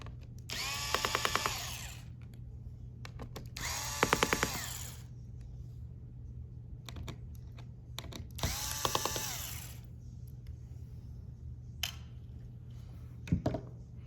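A small electric screwdriver removes three keyboard screws from a Lenovo Yoga 11e Gen 5 laptop. Three separate whirring bursts are heard close up, with soft clicks and handling noise between them over a steady low hum.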